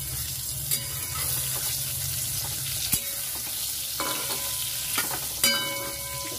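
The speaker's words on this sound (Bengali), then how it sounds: "বেগুন ভাজছি না, বেগুনের চচ্চড়ি বানাচ্ছি" Eggplant chorchori cooks in a pan with a steady moderate sizzle, punctuated by occasional sharp scrapes and taps of a spatula stirring the vegetables.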